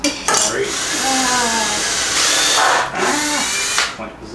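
A power drill drives screws into wooden slats for a convertible couch-bed built inside a van. It whirs close by in several short bursts, its pitch rising and falling as each screw goes in, with brief pauses between runs.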